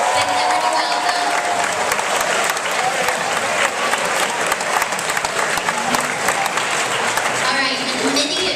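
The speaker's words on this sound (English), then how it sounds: "let's give all of our new students a round of applause" An assembly audience applauds to welcome new students, with loud, dense, sustained clapping from a large crowd and a few voices mixed in.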